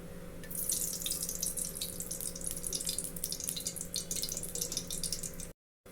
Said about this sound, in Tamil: தண்ணியை வடிகட்டி எடுத்துக்கிட்டாச்சு ப்ரோக்கோலியை